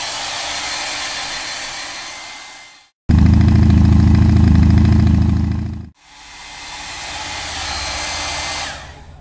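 A hair dryer blows loud and steady on wet paint for a custom lettering job on a biker's artwork, cutting out briefly twice with a deep, rumbling low-end burst in the middle stretch.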